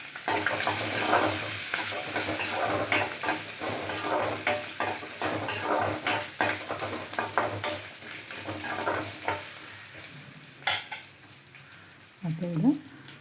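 Garlic cloves and curry leaves fry in hot oil for a sundakkai vathal kara kuzhambu, giving a steady crackling sizzle with intermittent stirring scrapes. Near the end there are a few sharper utensil knocks.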